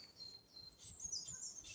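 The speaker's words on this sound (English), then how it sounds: "The birds singing," Faint outdoor birdsong drifts in with scattered high chirps and short whistled phrases over a quiet natural background, and no one speaks.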